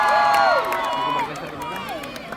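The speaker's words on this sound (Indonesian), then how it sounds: "Tepuk tangan buat paling depan." Concert crowd at a live band event in Makassar, loud cheering and screaming with some clapping, several voices shrieking and whooping over a dense crowd roar that gradually fades.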